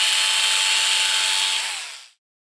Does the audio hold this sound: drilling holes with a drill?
yes